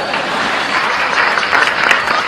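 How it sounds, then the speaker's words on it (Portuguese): A small group behind the scenes of a nun-themed makeup challenge shoot claps and cheers loudly in a brief, dense burst of applause. "Eu quero aplausos."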